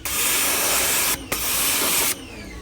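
A pressure water spray blasts a wall-mounted air conditioner with loud, steady hissing, cutting out briefly midway, then resuming before stopping abruptly.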